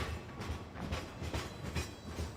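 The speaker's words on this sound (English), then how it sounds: "it does the switch, and then the train just takes off" A freight train in Farming Simulator pulls away carrying wood, its wheels rolling with a steady clickety-clack rhythm and low rumble, moderately quiet and continuous with no speech.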